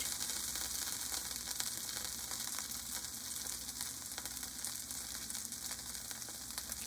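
Pad see ew noodles and eggs frying in a hot pan, a dense continuous sizzle that holds steady and close for the whole stretch, with no talking.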